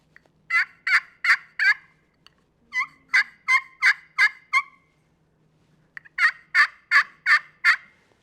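A turkey pot call worked with a striker gives three close, crisp series of four or five sharp yelping notes, separated by short silences, with no talking over them.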